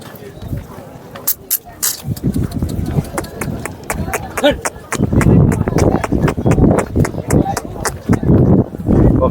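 A bull walking at a busy cattle market gives repeated hoof steps on hard ground, close and fairly loud, while people talk over it throughout.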